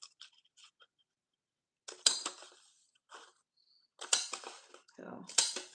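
Scissors snip and cut through paper during a craft project, coming as short crisp clusters of cuts separated by silent pauses, close and clear.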